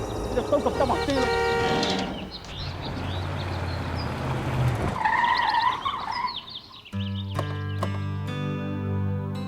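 A car skids as it drives off, tires screeching loudly in a brief burst amid engine noise, with birds chirping around it and people talking over the scene.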